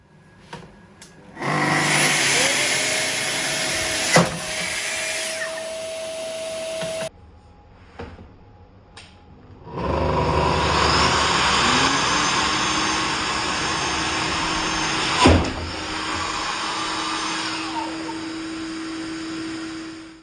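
Festool track saw cutting and kicking back, two loud bursts of whining motor and blade noise separated by a pause, with sudden sharp jolts in the cut, the motor's pitch shifting as it winds up and down.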